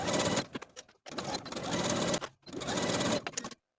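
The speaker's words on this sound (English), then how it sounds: "Sew all the way around with a 3/8 inch seam allowance" A sewing machine stitches a waistband seam onto elastic-waist pants in three steady whirring bursts separated by short pauses, close and loud, with no talk.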